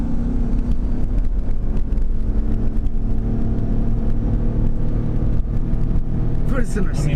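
A hot rod car engine roars at full throttle on a road tour, a loud continuous rumble and whine of wind and drivetrain heard from inside the car, with people talking over the noise.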